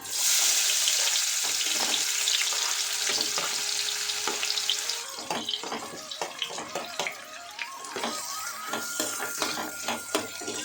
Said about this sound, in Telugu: ఉల్లిపాయలు ఫ్రై చేసేస్తున్నాం